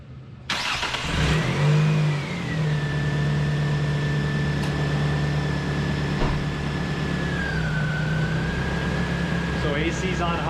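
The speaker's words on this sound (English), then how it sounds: "So we'll turn it on, and we'll make sure the compressor comes on now that there's refrigerant in the system." A Nissan X-Trail T30 engine starts and settles into a steady idle with the A/C running, a continuous close mechanical hum with a faint whine and occasional clicks.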